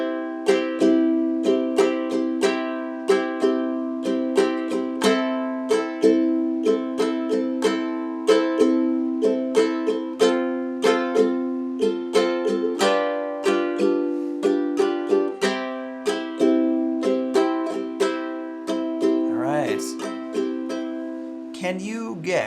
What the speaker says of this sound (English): And the Island Strum sounds like this.